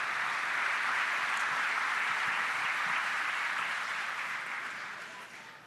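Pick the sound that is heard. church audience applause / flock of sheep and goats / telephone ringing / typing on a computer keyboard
church audience applause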